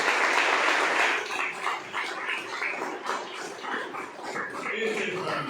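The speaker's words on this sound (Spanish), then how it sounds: "denle un aplauso fuerte al Señor" A church congregation claps steadily, loud at first and then settling into uneven, slightly thinner applause, with voices mixed in.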